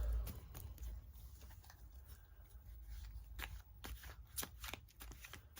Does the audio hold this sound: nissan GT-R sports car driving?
no